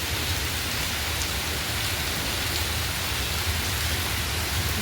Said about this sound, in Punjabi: ਬਹੁਤ ਮੀਂਹ ਪੈ ਰਿਹਾ